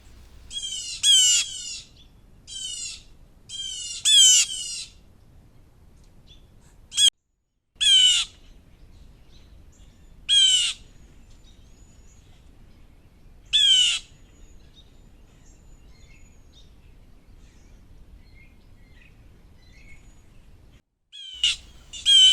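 Blue jays at a screech owl nest box give harsh, raspy squawks in short bursts, often in quick pairs or runs of two to four, separated by quiet pauses, loud and close outdoors.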